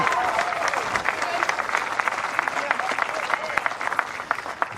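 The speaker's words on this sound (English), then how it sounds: "Big applause from the crowd." Crowd applause at the 2016 World Bowls women's pairs final between New Zealand and Wales, a steady wash of clapping that runs throughout, with a commentator's voice faintly audible beneath it.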